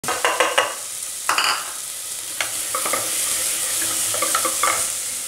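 Chopped onions sizzle and fry in hot oil while a spoon scrapes and stirs them in bursts, close and loud, as the base for a black chickpea curry; no one speaks.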